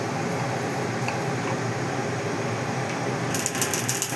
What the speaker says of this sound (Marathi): बघा, असं तडतड आवाज आला पाहिजे याच्यात.